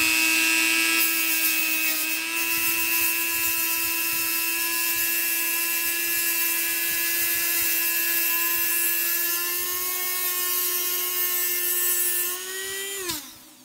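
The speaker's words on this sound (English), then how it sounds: "you just hold this up there by hand at about a 45 degree angle and do the bevel" A diamond grinding wheel bevels the edge of a 25-inch telescope mirror, held by hand at about 45 degrees, giving a loud, steady high-pitched whine that holds for over twelve seconds before the tone drops and winds down at the end.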